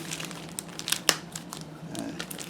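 A plastic bag holding a rifle scope crinkles and rustles close up during unpacking, irregular sharp crackles with a louder crunch near the middle, alone without talk.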